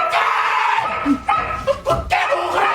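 Dogs bark in a few short yips and woofs during a stage play, brief and fairly close.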